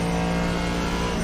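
GT3 race car engine in the Assetto Corsa Competizione racing game at Paul Ricard, a loud, steady, close engine drone during a practice lap approaching a braking point.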